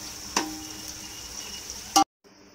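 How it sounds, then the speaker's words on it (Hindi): Onion frying in a pan for a soya chunks vegetable pulao gives a steady, low sizzle, broken by a sharp clatter near the start and a louder clang at about two seconds. Then a brief silence falls before a faint hiss returns. "1 प्याज को फ्राई कर लेंगे।"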